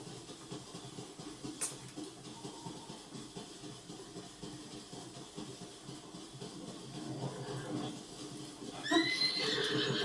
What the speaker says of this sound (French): On va essayer de prendre un cheval pour aller plus vite.